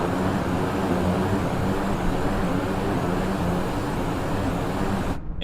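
A steady, loud roar of an airliner's thrust reversers during a replay in Microsoft Flight Simulator holds even and continuous, then cuts off abruptly right at the end.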